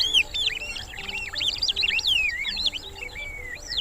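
Oxpecker birds chirp in quick, busy sequences of high whistling and twittering notes, fairly close and continuous, with faint insect buzzing in the background of an African setting.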